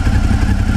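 A freshly serviced engine idles with fresh Motul 7100 fully synthetic oil just added, giving a steady, close, loud rumbling drone with a slight clatter and no talk.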